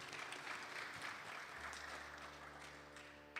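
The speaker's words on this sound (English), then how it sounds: "Please give him a round of applause." Audience applause at a Sunday satsang service after a dholak performance, a steady wash of clapping over sustained instrument tones that fades slightly toward the end.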